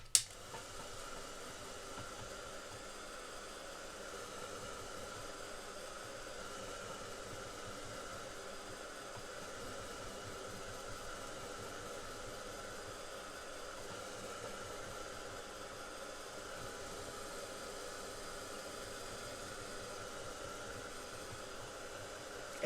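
A hair dryer blows steadily to dry distress oxide ink between blending layers on a craft background. It makes a continuous, even whooshing hiss for the whole stretch, with no talking.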